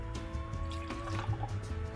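Two ounces of Tito's vodka pour from the bottle in a quiet, short trickle of liquid with faint glugging.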